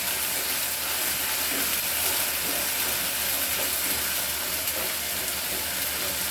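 Chicken frying in a pan with ginger-garlic paste gives off a steady, close, even sizzle and hiss that runs unbroken throughout, with no talking.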